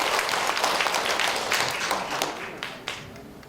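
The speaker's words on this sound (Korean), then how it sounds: "박수 주세요." An audience at a trot concert claps in a dense, sustained burst of applause that gradually thins and tapers off toward the end.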